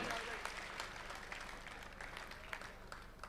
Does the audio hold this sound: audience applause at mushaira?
yes